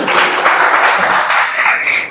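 A church congregation at a fellowship service claps hands together, a dense, continuous wash of clapping at close range and strong volume that holds steady throughout.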